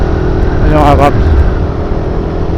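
A Suzuki Raider 150 carbureted motorcycle accelerates hard while overtaking on the road to Tagaytay, its engine rising to a brief loud rev near the middle over steady road and wind roar.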